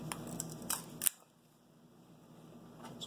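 An Apple hard disk is pierced by bolt cutters, giving a few sharp clicks and snaps that end in one loud crunching snap, followed by a quiet, nearly still stretch with a faint click near the end.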